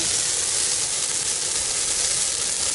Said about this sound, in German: Mal richtig knackiges Weihnachtsfeuer.